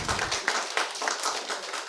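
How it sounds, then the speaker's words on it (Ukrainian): An audience at a comedy improv show claps in a brief burst of applause, with bright, dense hand claps and a few sharper individual slaps standing out. "давайте плескайте"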